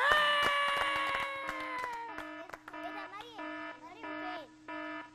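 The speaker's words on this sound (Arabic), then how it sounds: "انذار انذار يا مريم بتلعب في الكهرباء ولا إيه" A harsh electronic alarm buzzer blares in repeated tonal pulses, loud at first and then in shorter stuttering bursts.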